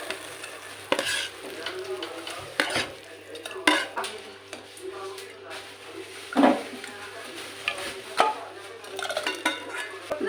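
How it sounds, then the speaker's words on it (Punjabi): Hot tempering oil goes into cooked urad dal, and the pan sizzles and bubbles under steady stirring, with spoon clinks and scrapes against the metal and a person talking over it. "ਇਹਦੇ ਚ ਪਾ ਦਿੰਨੇ ਆ ਤੜਕਾ"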